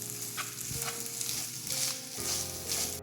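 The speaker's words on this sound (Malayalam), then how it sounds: "ഈ മസാലയെല്ലാം ചേർത്ത് ഒന്ന് ഇളക്കി യോജിപ്പിക്കാം." Masala with fresh coriander leaves being stirred in a pan for a simple evening snack, with a steady soft sizzle of frying and scraping spatula strokes throughout, no voices.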